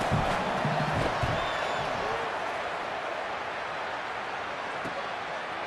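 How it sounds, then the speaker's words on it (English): A stadium crowd roars in EA Sports College Football during a punt return against Kansas, loud and sustained, peaking early and then holding as a steady wash of cheering throughout. "Very little will make a crowd hold its breath like a punt return, and he brought them to their feet on that one."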